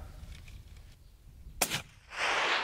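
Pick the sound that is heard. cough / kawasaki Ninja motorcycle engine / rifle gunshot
rifle gunshot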